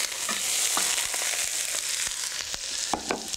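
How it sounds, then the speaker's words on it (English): Onions sauté in a good amount of olive oil in a hot pan, giving a loud, steady sizzle that runs throughout, with a few scattered pops and stirring scrapes and no voices. "So you have a hot pan, a good amount of olive oil, and all of our onions go in."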